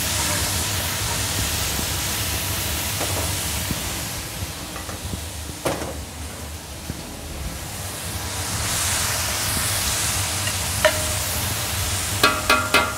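A steady, broad hiss of leeks sizzling in hot oil in a saucepan, fairly close, with a few soft clinks and scrapes of a utensil near the end.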